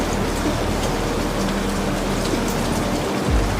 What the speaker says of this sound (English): the rain continues to fall in heavy silver sheets against the glass above